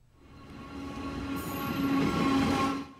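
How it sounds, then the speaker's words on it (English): A passenger train rolls past on the repaired Houtong west main line in New Taipei, building from a rumble to a loud roar with rail squeal, then cutting off at the end. "TRA engineers wave to the train as it passes."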